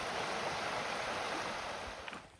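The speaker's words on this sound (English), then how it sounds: "Yes, a waterfall in Florida." A waterfall on a trail in Florida gives a steady, broad rushing hiss of falling water that stays even and moderately loud before easing off at the end.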